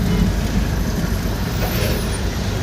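Busy city traffic roars at a steady, dense level while a vehicle pulls in, engines and road noise blending into a continuous loud wash with no clear pauses.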